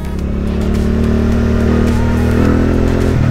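Benda Napoleon 450 motorcycle accelerating to overtake on a test ride, its engine droning loud and close with rising revs and steady wind and road noise, no talking.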